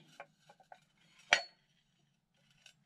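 Debbie Mumm by Sakura Halloween dishes from 1998 clink faintly as they are handled, with a few light taps followed by one sharper ceramic knock, and no voices.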